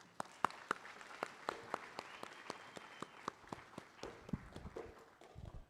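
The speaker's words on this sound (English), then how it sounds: "Let's give him a round of applause." A small group applauds at a board of education meeting: sparse, distinct claps, fairly faint and spaced, with a few louder individual hits and light shuffling near the end.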